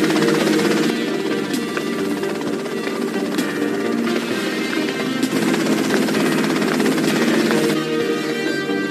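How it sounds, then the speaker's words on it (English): Helicopter in GTA Vice City, a continuous loud rotor thrum and engine drone holding steady throughout, with a few faint clicks and thuds over the top. "that's them and the chopper"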